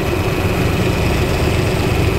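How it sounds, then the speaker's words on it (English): A four-stroke motorcycle engine with several carburetted cylinders runs at a steady idle, a close continuous low rumble and drone with even vibration and no clear rise in revs. "it's really good just to sort of blip the throttle a little bit and see what they settle back to"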